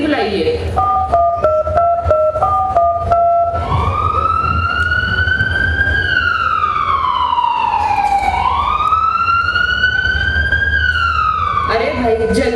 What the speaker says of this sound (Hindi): अरे भाई जल्दी हटो, पीछे एम्बुलेंस है।